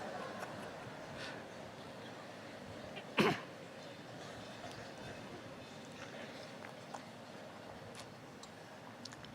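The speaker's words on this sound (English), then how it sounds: "Generally people have coffee break, I'm having cough break." A single sharp cough stands out against a quiet room with faint background noise.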